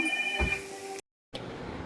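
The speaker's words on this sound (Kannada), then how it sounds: "ಯಾರವ ಫೋನು" A phone rings with a steady electronic tone for about a second, then cuts to silence before faint room noise returns.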